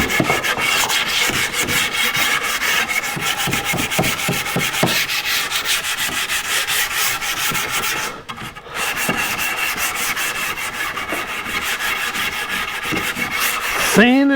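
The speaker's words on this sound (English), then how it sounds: "Sanding away." Wooden foyer table edges being hand-sanded, with continuous rhythmic rubbing strokes that stay loud and close throughout, broken by one brief pause midway, with no talking.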